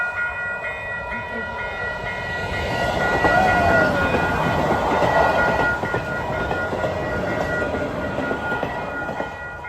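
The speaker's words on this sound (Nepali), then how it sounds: "यता ट्रेन आउँदैछ त्यो ट्रेन आएपछि यस्तै साइरन बज्छ यहाँ" An arriving train rumbles past nearby, swelling in loudness midway, with a brief siren-like horn and a steady mechanical drone; no one speaks.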